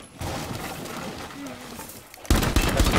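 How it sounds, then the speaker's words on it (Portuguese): Gunfire in Rainbow Six Siege: a few quiet shots amid game noise, then a loud burst of rapid shots near the end, with players talking over it. "Dá mais um tiro que você destrói."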